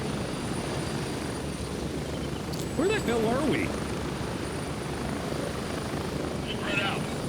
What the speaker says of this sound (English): that's the helicopter.